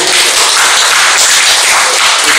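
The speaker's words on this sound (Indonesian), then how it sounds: "Tepuk tangan untuk ibu-ibu." A crowd gives loud, dense, continuous applause for the mothers at a school certificate ceremony, close and unbroken throughout.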